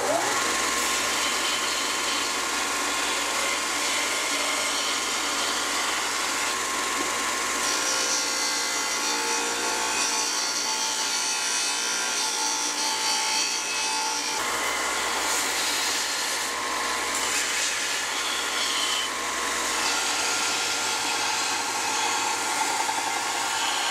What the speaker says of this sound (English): I'm going to go over to the sander and start working on the end and all of that.